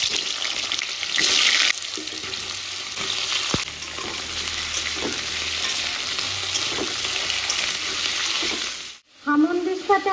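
Potatoes frying in a pan sizzle continuously up close, broken by brief bursts of stirring and clatter and one sharp tap. The sound cuts out near the end, then a short clatter follows.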